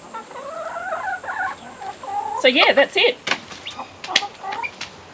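Chickens clucking and squawking close by in a tropical chicken coop in a quick, busy burst, with someone speaking briefly over the birds.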